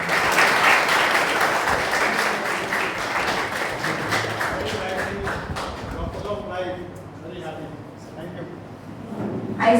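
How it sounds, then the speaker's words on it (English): An audience at a school investiture ceremony gives a round of applause to a guest, dense clapping at first that thins out into scattered claps, with a voice beginning to speak as it dies away. "I request all to once again welcome him with a round of applause"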